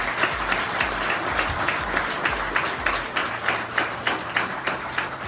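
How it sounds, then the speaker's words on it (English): A live audience at a business talk event gives a steady, dense round of applause that runs unbroken from start to end, full and fairly loud with a faint murmur beneath. "Big round of applause, guys,"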